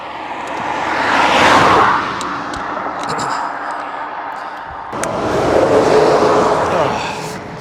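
A car passes along a quiet rural road lined with flowers, swelling to a broad whoosh, fading, then a second louder rush of passing traffic near the end, with a person talking around it.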